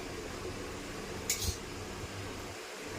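Fried green banana is served onto plates, with one short clink of utensil on dishware over a quiet room hum.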